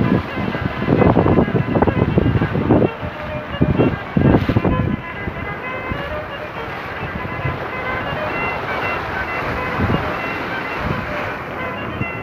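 Wind rushes steadily past a sailboat under sail on the open sea, roaring close on the microphone, with louder gusty bursts early on before it settles into a constant windy wash.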